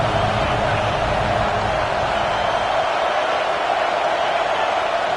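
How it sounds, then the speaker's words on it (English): Steady, dense roar of a packed stadium crowd at a college football game between Texas and Alabama, loud and unbroken throughout with no distinct voices standing out. "with this place rocking, the crowd forces a false start"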